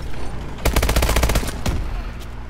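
Rapid bursts of automatic gunfire from a Call of Duty: Advanced Warfare match, loud and close, a dense volley followed by a few scattered single shots.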